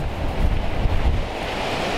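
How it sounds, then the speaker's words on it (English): Strong wind buffets the microphone in a continuous low roar beside a BMW 118i, loud and close, with gusts swelling and easing and no voices. "Oh, it's very windy, I really do apologise."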